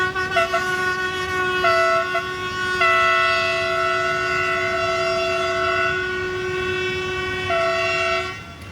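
A Softronic-built electric locomotive of private freight operator MMV, a 6,000 kW dual-voltage 25 kV/15 kV machine, runs loud and close with a sustained, steady tonal drone and whine that shifts pitch a few times before fading at the end.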